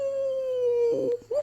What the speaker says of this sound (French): vous comprenez que c'est empli de tristesse qu'il aboie